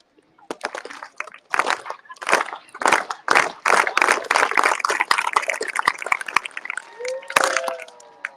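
A crowd claps in an outdoor Charter Day gathering at a state capitol, starting with scattered claps that quicken and thicken into steady rhythmic clapping, then a final burst with a few cheers near the end.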